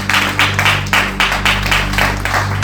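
A church congregation claps in a steady rhythmic beat, about two claps per second, over a sustained low musical drone, praising the Lord during a French-language sermon.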